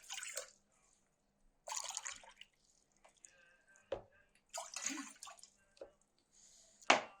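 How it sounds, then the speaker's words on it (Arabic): Two cups of water poured into a small pot for quick pickled cucumbers, heard as intermittent splashing bursts with drips and a clink, close but fairly quiet. "هنجيب حله تكون صغيره على قد الخيار، وهنحط فيها كوبايتين من المية"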